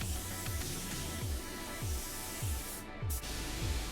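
A DeVilbiss DV1 spray gun applies a light coat of paint to the back of a Chevy truck tailgate, producing a steady, close hiss of atomized spray with a repeated low pulsing beneath it and no talking.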